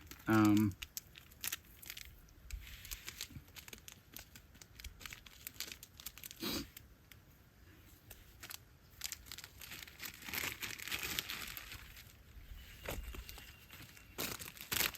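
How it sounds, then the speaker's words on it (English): Plastic rubbish bag crinkling and rustling up close in bursts as trash is stuffed inside, with a sharp tearing crackle here and there and quieter pauses between handlings. "Stick your rubbish back in the bag"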